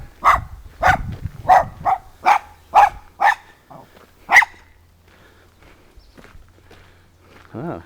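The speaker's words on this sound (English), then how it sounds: "Dogs." Several loud, close dog barks in a quick rhythmic series, then a pause and one last bark, with quieter rustling and a brief voice afterward.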